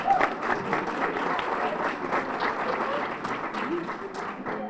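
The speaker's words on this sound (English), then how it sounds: "let's give him another round of applause" Audience applause at a luncheon, a dense, steady patter of many hands clapping at moderate distance for several seconds with faint voices mixed in.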